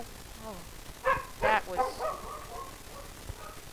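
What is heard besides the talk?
dog barking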